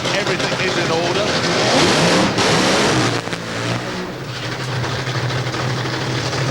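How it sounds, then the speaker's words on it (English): Drag racing car at Santa Pod smokes its tyres in a burnout, a loud roaring engine and churning wheelspin under a commentator's voice, easing off briefly midway before continuing. "she's trying a little bit harder that time and certainly smoking the tyres there"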